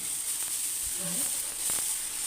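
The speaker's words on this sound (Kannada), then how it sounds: "ಇದೇ ಥರ ಇನ್ನೊಂದು ಕೂಡ ಇನ್ನೊಂದು ದೋಸೆ ಹಾಕಿ ತೋರಿಸ್ತಾ ಇದ್ದೀನಿ" Onion dosa batter sizzles on a hot pan with a continuous bright hiss, close and steady, with a faint voice and a light tap or two underneath.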